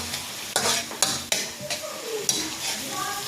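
Garlic frying in a pan with a soft sizzle beneath several sharp stirring scrapes and taps of a utensil against the pan, close and moderately loud, with a few brief thin tones near the end.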